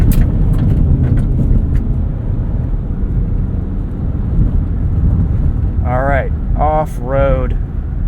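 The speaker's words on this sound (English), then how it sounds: "Car tends to bounce around quite a bit on washboarded sections of road" Kia Sportage X-Pro Prestige, 2023, driving over a washboarded dirt road: a loud, steady rumble of tyres and suspension drumming continuously, with brief chirping sounds near the end.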